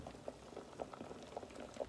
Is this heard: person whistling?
no